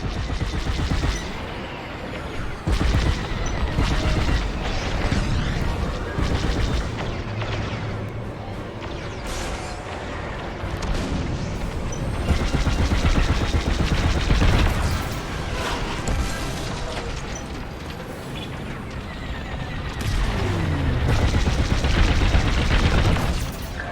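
Starfighter cannon fire in the Star Wars Squadrons video game, with repeated booming bursts and rapid blasts over a constant roar of engines and combat, loud and continuous for the whole stretch.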